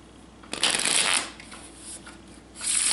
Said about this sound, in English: I'll shuffle,